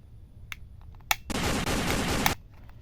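A red toy shotgun lets out one loud, harsh burst of rattling electronic firing noise lasting about a second, preceded by a few small clicks in an otherwise quiet room.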